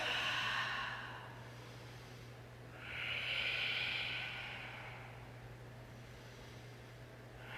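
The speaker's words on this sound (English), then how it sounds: "3 deep breaths." Slow deep breaths taken during a yoga flow, two long airy exhales about three seconds apart, close and soft over a steady low hum, with no talking.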